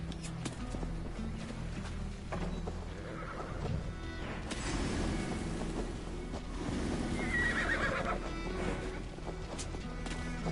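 A horse whinnies loudly a couple of times amid shuffling hooves and a busy background of video-game ambience in Assassin's Creed Valhalla, no speech.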